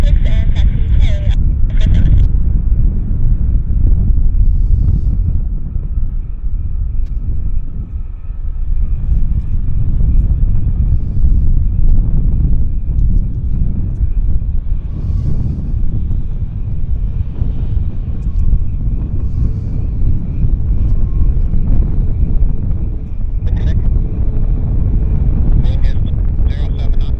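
An ANA airliner rolls down the runway on takeoff at Vancouver Airport, a steady distant jet roar mixed with wind buffeting on the microphone, with people talking over it.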